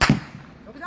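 Gunshot fired by sand mafia in front of police: one sharp bang at the start with a short echoing tail, loud and abrupt, followed by a brief low thump.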